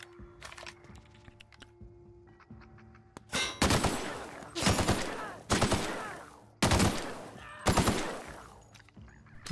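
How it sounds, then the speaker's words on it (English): Shotgun blasts in The Outer Worlds, five loud booming shots spaced about a second apart after a quieter stretch of small game clicks and ambient tones. "Shotgun fires very slowly in what I call VATS mode"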